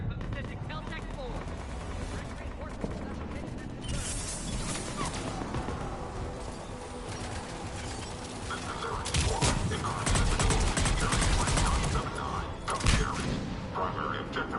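Sustained gunfire rattles through a Mass Effect 3 battle, with dense bursts, thuds and crashes that swell louder and heavier in the second half, unbroken by any clear talk.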